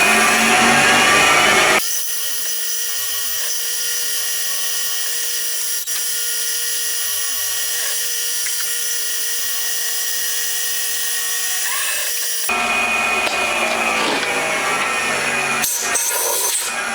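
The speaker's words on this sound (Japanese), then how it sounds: "とりあえずまず短いドリルで開けるとこまで開きます。" A short drill bores holes into the head cover of a handmade 125cc four-cylinder 16-valve engine, a steady high-pitched whine running continuously at close range with shifts in tone as the bit cuts.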